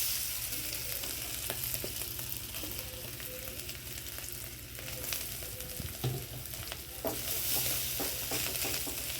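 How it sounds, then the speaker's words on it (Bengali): Mashed potato sizzles and fries in a wok while it is stirred steadily, with a continuous frying hiss and frequent scraping strokes of the spatula close by. "এবারে আমি আলুটাকে কড়ার মধ্যে দিয়ে দেব।"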